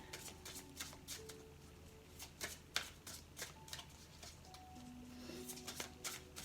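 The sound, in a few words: shuffling and drawing a card from an oracle card deck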